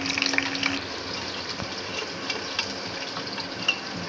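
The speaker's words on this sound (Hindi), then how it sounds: "अब प्याज को आपने इतना फ्राई करना है कि इस पर गोल्डन सा कलर आ जाए" Sliced onions fry with cumin and bay leaves in a pot for mutton yakhni pulao, a steady close sizzle with faint stirring scrapes and a few small pops throughout, no voices.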